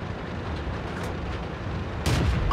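Tank cannon fire in the World of Tanks video game, a single heavy boom landing near the end over a dense, steady rumble of battle noise, with no speech.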